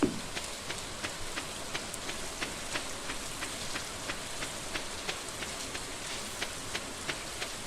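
Rain falls in the video game Stardew Valley, a steady soft patter with regular faint ticking drops, quiet and continuous with no talking.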